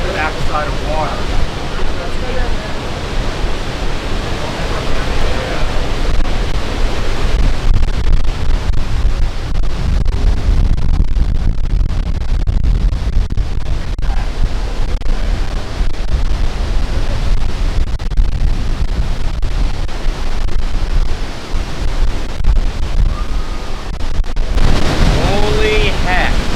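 Niagara Falls waterfall roaring as a continuous, loud broadband rush, heard up close from behind the falling water, with wind buffeting the microphone throughout.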